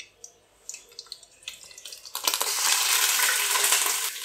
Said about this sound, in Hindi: अब इसमें हम कड़ी पत्ता डाल देंगे, साबुत लाल मिर्चें डाल देंगे, साथ इसमें प्याज का पेस्ट डाल देंगे